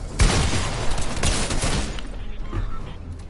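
Gunfire in a Fortnite Creative match: a dense run of rapid shots and bursts crowds the first two seconds, then thins out to scattered, quieter pops at close range.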